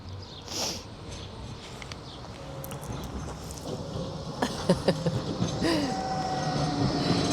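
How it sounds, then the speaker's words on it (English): A Blackpool tram rumbles past with low rolling noise, a few clicks and faint wheel squeals, steady and fairly close, no talking. "Here's the tram."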